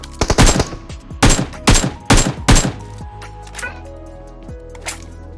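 Rapid bursts of gunfire from PUBG Mobile on the Erangel map during a squad match, several loud close volleys in quick succession, then sparser single shots and quieter game ambience.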